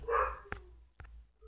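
A neighbour's dog barks in a Brazilian home setting, one fairly loud opening bark followed by two short sharp yaps spaced about half a second apart, heard alone without talk.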